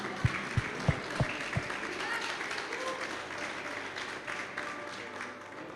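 A church congregation claps along in a worship service, a few loud distinct claps standing out at the start before settling into steady, dense applause with voices and singing underneath.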